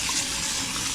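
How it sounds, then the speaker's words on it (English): Cold water runs steadily from a kitchen tap to rinse cooked beans in a sink, a continuous close gushing flow with no talk over it. "we're gonna get some cold water"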